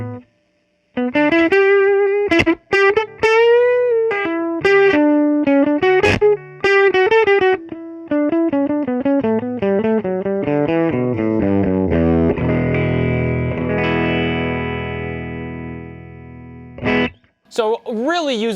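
An electric guitar played through a 1973 Peavey Classic 212 amplifier with the master volume raised, sounding clean and bright, with quick runs, single notes and chords, loud and close, ending in a brief pause and final strum.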